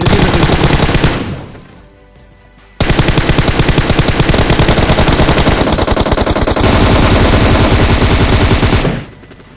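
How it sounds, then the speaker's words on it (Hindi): Automatic gunfire in PUBG Mobile: loud bursts of rapid shots, a burst that fades out, a short pause, then long sustained fire that cuts off near the end, with no voices. "ये भाई किस्तों में गोली चला रहे थे"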